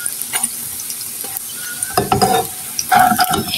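Potato and flour snacks fry in hot oil, a steady sizzle under clinking and scraping of a utensil against the pan, with louder stirring bursts toward the end.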